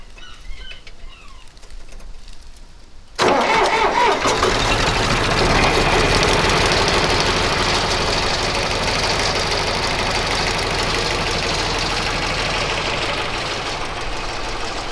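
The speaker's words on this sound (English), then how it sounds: "I want to cold start the John Deere 310." A John Deere 310 engine cold-starts after a few quiet seconds, catching abruptly and settling into a loud, steady rough idle with a knocking pulse, close by and uninterrupted, no voices.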